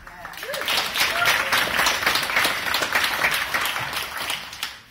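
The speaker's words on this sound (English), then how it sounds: "we should personally give a round of applause to the community for that" Audience applause for the community at a Raspberry Jam gathering, a dense, steady wash of clapping from a crowd that swells and then tapers off, with a voice faintly present underneath.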